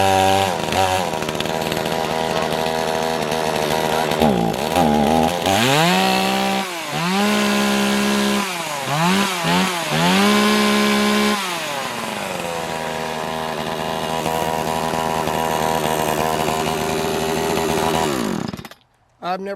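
A Chinese 52cc or 62cc gas chainsaw runs close by, its engine revving up and down repeatedly in bursts before settling to a steady idle and cutting off near the end.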